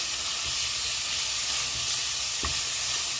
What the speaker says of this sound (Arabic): هنحمر كده البصل كويس جدا